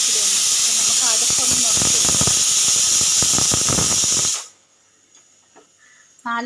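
A pressure cooker full of biryani vents steam in a loud, steady hiss that runs for about four seconds and then cuts off abruptly, leaving near silence with a few faint clicks.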